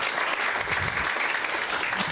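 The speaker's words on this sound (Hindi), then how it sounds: "अपने आप के लिए एक जोर से ताली बजा दी।" Audience at a felicitation event in Pune clapping together, a dense, even burst of applause filling the whole moment.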